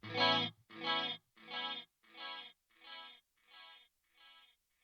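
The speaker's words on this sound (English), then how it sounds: "I dial it in so it's nearly at the same time as the echo 1, but with just enough of a difference so I get more of a stereo effect" A stereo delay effect built from free plugins in an ambient tone, a single bright burst repeating seven times at an even rhythm and steadily fading with each echo.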